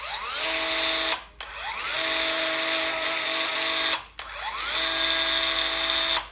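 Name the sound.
homemade drum sander driven by Ryobi 18V cordless drill, running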